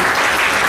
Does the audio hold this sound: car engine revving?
no